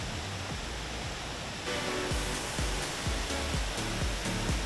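A steady, heavy rush of a waterfall in Sukabumi, Indonesia roars continuously, getting a little louder partway through, with no voices.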